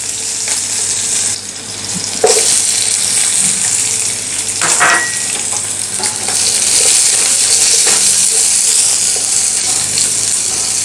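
Onion and green chilli sizzle and fry steadily in a pan, with a few stirring scrapes and clinks over a continuous close hiss.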